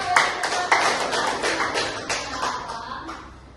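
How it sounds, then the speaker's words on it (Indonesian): A classroom audience claps for the teacher in a short burst of applause, brisk and fairly close, with scattered individual claps that thin out and fade over a few seconds. "Berikan aplaus bagi Bapak"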